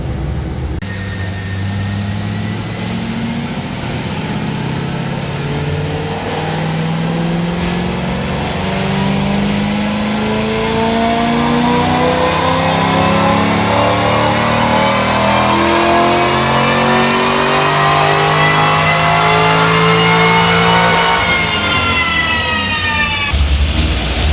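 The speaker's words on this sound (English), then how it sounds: "Now let's see what she does for full throttle." A C5 Corvette Z06 engine runs a full-throttle dyno pull, its loud, close roar climbing steadily in pitch for about twenty seconds before the revs drop off sharply at the end.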